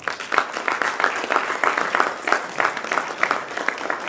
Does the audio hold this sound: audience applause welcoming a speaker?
yes